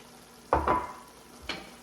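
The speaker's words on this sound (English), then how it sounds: "We're going to add our onions." Onions go into a hot pot for chili with a quick sizzling burst and stirring sounds, followed by a second short sizzle, all fairly faint and without talk.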